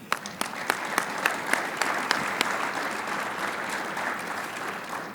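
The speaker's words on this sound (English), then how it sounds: "please give a round of applause to the best executive director that any section" A room full of guests at a golf awards luncheon gives a round of applause, a steady crowded patter of clapping with a few sharper individual claps standing out near the start, sustained throughout without talk.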